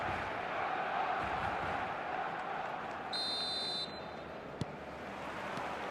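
Stadium crowd noise in the eFootball video game, a broad steady murmur of fans filling the background, with a short electronic beep tone rising briefly above it and one sharp click later.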